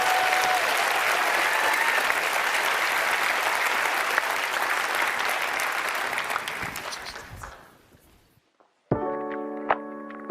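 Sustained applause from a large audience at a university innovation awards ceremony, dense clapping that fades out over a couple of seconds into near silence, followed by a short burst of tonal music.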